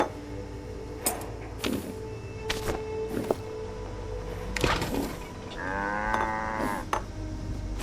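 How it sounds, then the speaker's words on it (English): A cow moos once in the Fallout 76 video game, a drawn-out low call near the end, among scattered clicks and thumps of game noise. "It sounds like there's a cow outside."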